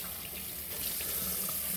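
Kitchen tap running steadily as flank steaks are rinsed under it, a continuous soft splashing stream of water into the sink, fairly quiet and close with no talk.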